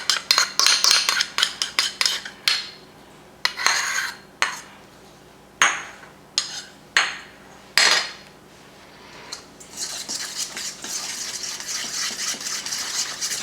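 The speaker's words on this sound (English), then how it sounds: "Give it a little bit of a mix." Breadcrumbs, Old Bay, tarragon, mayo and mustard mixed in a bowl for a crab and shrimp stuffing, with a run of sharp utensil clinks and scrapes against the bowl, then a steadier rustling stir toward the end.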